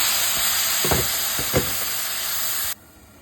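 Steady hissing and sizzling of vegetables with broccoli in a hot pan, with a few soft stirring knocks, before the sizzle cuts off abruptly near the end.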